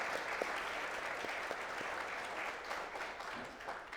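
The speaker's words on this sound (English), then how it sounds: "One more round of applause for Commissioner." Applause from the audience at the Bright Futures mental health luncheon, honoring a state commissioner: continuous moderate clapping with a few sharper individual claps, tapering slightly toward the end.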